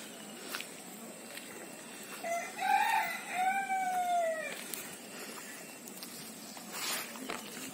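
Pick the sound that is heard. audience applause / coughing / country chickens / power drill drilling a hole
country chickens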